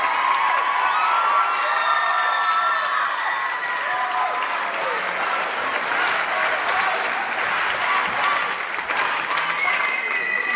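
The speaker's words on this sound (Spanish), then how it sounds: "Démosle un fuerte aplauso a 230 artistas." A large audience at a folk culture performance applauds continuously, dense clapping with some cheers and whoops, loud and sustained throughout.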